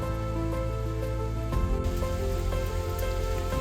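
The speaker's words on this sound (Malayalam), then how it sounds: "ഇതാണ് കേട്ടോ വാട്ടർഫോൾസ്, അരീക്കൽ വെള്ളച്ചാട്ടം" Dense, steady rushing of the Areekkal waterfall after rain, a loud unbroken roar of falling water heard up close with no voices.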